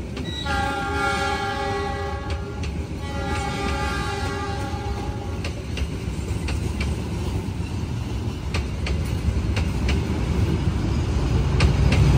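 A train sounds its loud, steady horn for about five seconds at a railway station on the Semarang to Bandung route, as the Ciremai economy train stands at the platform, followed by continuous rumbling rail and engine noise that builds slightly.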